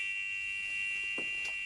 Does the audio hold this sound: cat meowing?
no